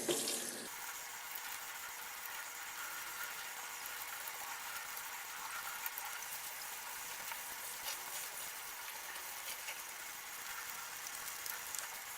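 Steady running water pours from a tap as ice-dyed fabric is rinsed out in a sink, a continuous close hiss and splash that stays even throughout with no talking.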